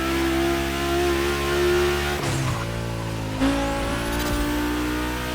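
Turbocharged cars, a 1990 Audi Coupe Quattro with a big turbo and over 800 horsepower alongside a Porsche, in a racing video game, their engines droning and revving loudly and continuously, with a brief sharp rise midway.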